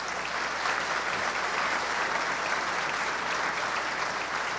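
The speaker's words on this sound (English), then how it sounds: "That's right, give yourselves a hand clap." Steady, dense applause from an audience at a graduation ceremony for green building superintendents, continuous hand clapping with no pauses across the whole stretch.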